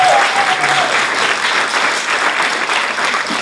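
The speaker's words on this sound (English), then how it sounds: "So please give him a huge and hearty round of applause." A hearty round of audience applause at a gathering, loud and close, sustained clapping throughout with a faint brief voice at the start.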